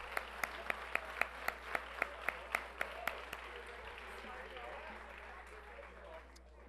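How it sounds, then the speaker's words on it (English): Applause for a school district's educational technology department at a governing board meeting: a steady run of crisp, evenly spaced claps that thin out midway, leaving a soft room murmur. "Let's have a round of applause for our educational technology department."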